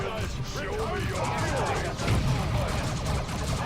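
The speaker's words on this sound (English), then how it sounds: "Darn it, blinding grenades." Blinding grenades going off amid dense, continuous battle noise in the strategy game Dawn of War II, with rumbling blasts and clatter throughout, partly covered by a voice talking over the fighting.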